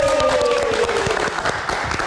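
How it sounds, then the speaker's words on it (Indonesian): Studio audience on a live Indonesian talk show giving a round of applause, a brief burst of dense clapping fading slightly as it continues. "kita berikan tepuk tangan sekali lagi"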